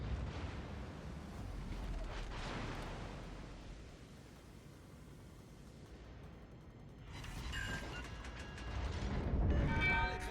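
Battleship guns fire in the naval video game World of Warships Legends, muffled distant booms and rumbling blasts with a louder burst of shots and clanks toward the end, faint overall.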